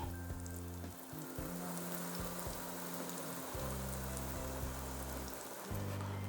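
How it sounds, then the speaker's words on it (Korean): Sliced bananas frying in a pan over low gas heat, a steady soft sizzle that stays faint and continuous throughout. "그 다음에 이제 바나나를 구워줍니다"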